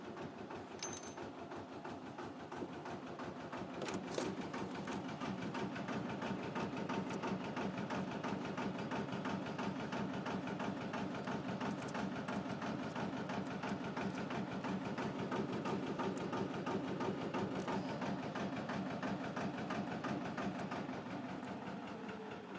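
A narrowboat engine running steadily just after the choke is pulled, with a continuous close low mechanical chug and a fast repetitive rattle that stays even throughout.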